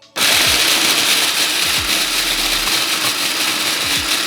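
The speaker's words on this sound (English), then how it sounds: "Go ahead and pulse that until you have a nice powder." A food processor grinds snapped ingredients into a powder, giving a loud, steady, close whirring roar from start to finish with no break between pulses.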